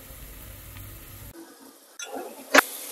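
Ginger garlic paste drops into hot oil and sets off a soft sizzle, then a sudden sharp spatter and hiss as it fries close by.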